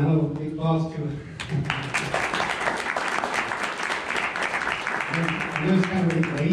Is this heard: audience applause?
yes